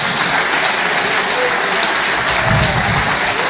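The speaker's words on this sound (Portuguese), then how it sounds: "Aplaude, se você quiser, aplauda." A church congregation applauds in a steady, dense wash of clapping that fills the room and continues without a break.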